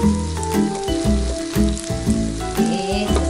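Ground spices and brown sugar sauté in hot oil in a pan, a lively crackling sizzle with repeated bursts as the mixture is stirred.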